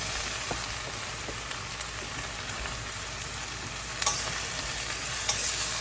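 Bhindi sabzi (okra) frying in a pan over medium-high heat while being stirred, a steady dense sizzle with a few faint scraping knocks, moderately quiet and continuous, with no voices.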